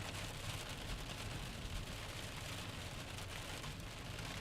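Heavy rain pours down during a severe thunderstorm in Muhammad, a dense, steady roar of drops hammering surfaces close by, unbroken for several seconds with no voices.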